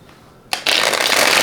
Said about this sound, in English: I just need to shuffle them